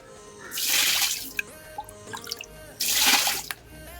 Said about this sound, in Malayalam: അയ്യോ പായലെല്ലാം ഇളക്കി കഴിഞ്ഞ് ഇനി വെള്ളം കോരിക്കളാം കേട്ടോ